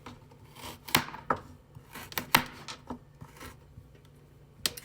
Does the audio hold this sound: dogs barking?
no